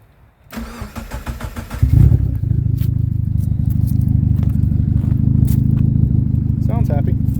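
A turbocharged car engine with an exhaust leak at the downpipe gasket cranks briefly, catches and settles into a loud, steady idle close by, with short voices over it.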